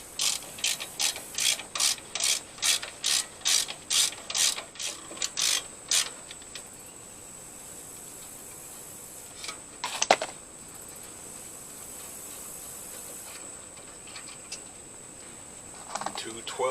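Rapid ratchet clicks in a dozen steady bursts over the first six seconds as a ratchet wrench loosens 12mm brake caliper bolts on a 2003 Chevy Tracker 2WD front hub, followed by quiet shop hum and a sharp clank.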